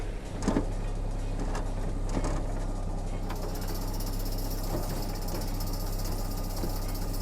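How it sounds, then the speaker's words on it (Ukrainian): Mitsubishi MT170 small tractor running its rotary tiller, a steady close engine drone with clanking mechanical ticks and rattles, continuous throughout. "Фреза працює, крутить."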